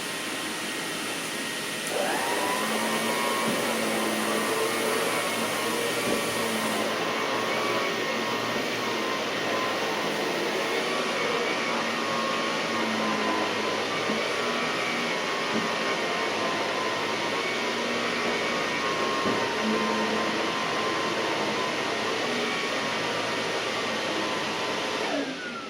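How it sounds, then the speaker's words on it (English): An Electrolux Olympia One vacuum cleaner runs steadily while cleaning a room's carpet, starting after a brief quiet moment and holding a loud, continuous motor whine with airflow hiss close by, with no talking. "let's vacuum the rest of the room"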